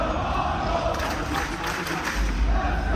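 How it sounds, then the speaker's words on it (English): A crowd roars at a DreamHack Dallas esports match between Team Europe and Team Asia, a dense, steady wash of many voices that fills the hall without pause. "Crowd chants going."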